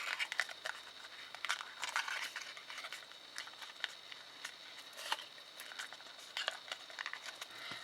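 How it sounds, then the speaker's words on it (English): Paper crinkling and light creasing as the flap of a handmade paper Ferrero lid box is folded in, a series of soft, close, quiet crackles and taps spread across the moment. "folding in the flap like so"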